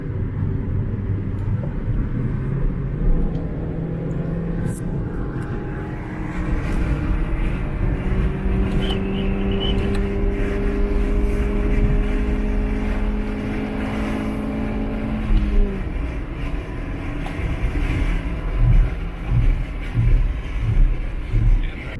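A Kia Rio with a tuned rev limiter and adjusted injector timing accelerates hard, its engine a steady loud rumble with a rising tone that holds for several seconds, then drops off into lower, uneven engine noise.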